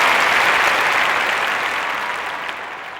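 A round of applause from a small group on a podcast, brisk, close clapping that starts full and gradually tapers off over a few seconds.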